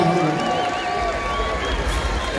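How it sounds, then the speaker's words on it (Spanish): Outdoor crowd at an Andean music concert in a park cheering and applauding, a dense, continuous wash of claps and shouts with a few voices rising above it, moderately loud and sustained. "Un aplauso fuerte para nuestros hermanos."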